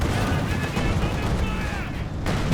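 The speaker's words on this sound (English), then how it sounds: "that's a nasty shot from the mortar there" Mortar fire and battle noise from the video game Company of Heroes 2, dense and continuous with repeated blasts and gunfire under steady game sounds.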